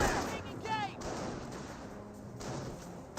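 Gunfire from a Company of Heroes 1 battle against Volksgrenadiers and Panzergrenadiers, a short mix of shots and explosions layered over a steady game soundscape with a commentator's voice talking over it.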